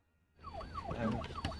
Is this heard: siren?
yes